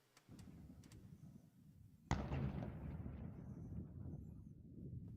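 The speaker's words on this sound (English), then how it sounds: "You can actually hear the gunfire in the port" A sharp, booming report of distant gunfire in a port during the war in Ukraine cracks out and echoes away, with fainter pops before it, all over a steady rumble of wind.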